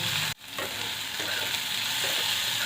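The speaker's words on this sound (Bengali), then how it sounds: "সবসময় মিডিয়াম টু হাই ফ্লেমে এটাকে টস করবে তাহলে একটু সেদ্ধও হবে আবার ক্রান্তি ভাবটাও থাকবে" Chopped tomatoes tossed and frying in a pan over medium-high flame, a dense continuous sizzle with a brief dip near the start as the pan is tossed, then steady crackling throughout.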